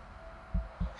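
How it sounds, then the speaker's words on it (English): Two deep, rumbling heartbeat thumps from the video game Until Dawn, close and evenly spaced over a low steady hum. "It was heart beating. It was like, it was all rumbly."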